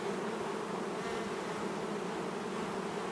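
Honey bees at an open beehive hum in a dense, continuous buzz, steady and close with no talk over it.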